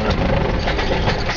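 A small propeller aircraft engine on a discovery flight at Ocala rumbles loud and close, a dense, steady low drone with no voices over it for the brief moment.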